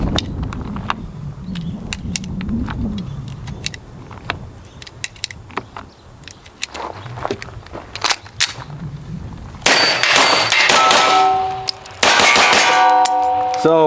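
Gunfire from a TTI Sand Viper shotgun or TR-9 rifle cycling cheap backward-loaded rounds, heard as sharp metallic shots and clanks, scattered at first and then louder bursts near the end, with faint sounds between.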